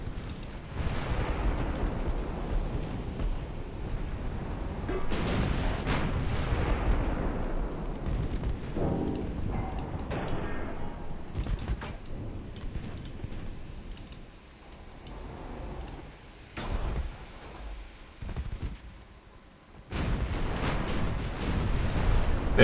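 Torpedo hits and shell explosions in the naval battle game Ultimate Admiral Dreadnoughts, a steady run of heavy booms and rumbling blasts, loud and continuous, with sharper bursts near the end and no talk.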